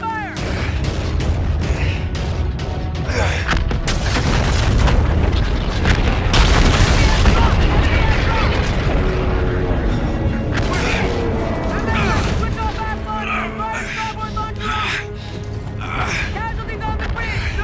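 Heavy naval gunfire and explosions from a sci-fi warship battle in the Call of Duty Infinite Warfare video game, with repeated booming blasts and a dense roar under urgent shouted radio commands, loud and continuous throughout.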